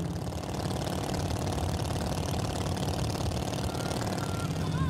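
A 1951 Allard K-2 hot rod with a Merc Flathead engine runs steadily up close, a loud, rumbling idle that holds for the whole stretch.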